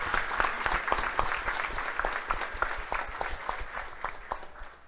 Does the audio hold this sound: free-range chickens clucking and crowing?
no